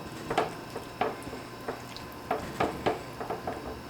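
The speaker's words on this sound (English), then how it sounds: "Wash my hands." Hands are rinsed under a running kitchen tap, a faint trickle broken by a series of irregular splashes and drips as water hits the skin and sink.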